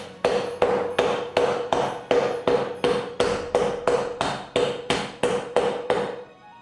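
Peppermint bark crushed with the bottom of a cup in a home kitchen: about fifteen sharp, evenly spaced knocks, loud and close, each ringing briefly before the next blow, with no talking.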